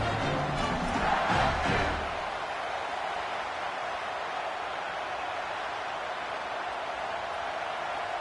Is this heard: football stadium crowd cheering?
yes